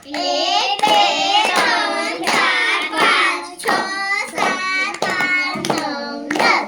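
A group of children in a primary classroom clap their hands together in a steady, repeated rhythm, about nine claps over several seconds, while their voices chant loudly throughout.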